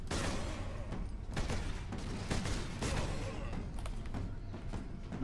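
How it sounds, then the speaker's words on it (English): Sustained heavy bolter suppressing fire in the Space Marine video game, a loud, dense barrage of rapid booming shots with thudding impacts, continuous for several seconds. "Heavy bolter. Suppressing fire!"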